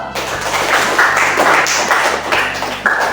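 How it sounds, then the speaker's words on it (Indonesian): Students in a classroom clap briefly, a close, somewhat sparse patter of hands with scattered sharp taps over a faint background hum. "Ya, tepuk tangan dulu."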